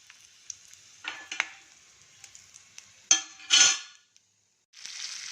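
Cinnamon, cloves, cardamom, fennel, bay leaf and seven or eight Byadgi chillies fry in a pan, with soft sizzling bursts broken by clinks of a utensil against metal and a brief quiet pause.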